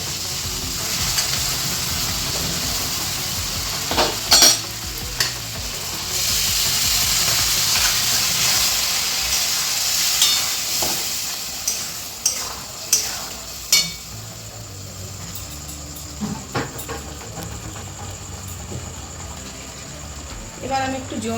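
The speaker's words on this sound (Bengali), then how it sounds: "এবার আমি আগে থেকে সেদ্ধ করা ছোলার ডালটা এর মধ্যে দিয়ে দেবো।" Boiled chickpea dal is stirred into a spice masala frying in a pan, giving a steady hiss and sizzle broken by repeated sharp scrapes and knocks of a spoon against the pan.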